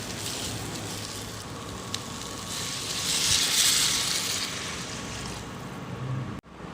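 Water pours into a pan of egg kurma with potatoes, a broad splashing hiss that swells in the middle and then settles back to a steady simmering sizzle before a sudden stop, heard close with no talking.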